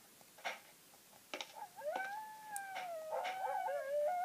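Wolves in the survival game Survivalcraft howl in a rising, wavering chorus of several voices that builds to a loud, sustained pitch, with scattered short clicks and knocks heard alongside them.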